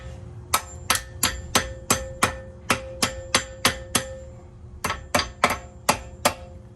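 A hammer strikes a brake pad clip on a Mercedes W220 in a steady series of sharp, ringing taps, about two per second, pausing briefly before a final run of blows.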